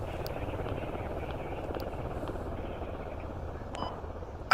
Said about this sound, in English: I just got picked up by this helicopter.